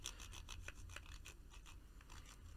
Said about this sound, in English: now we'll use the arm reamer, which is the 4mm size, and you will have to run it a couple times